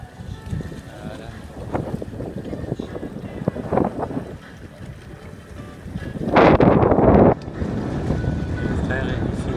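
Wind buffets the microphone aboard a sailboat at sea off Sardinia in light breeze of about twelve knots, with gusty rumbles rising to a loud roaring burst midway, then a steady whoosh, under intermittent talk.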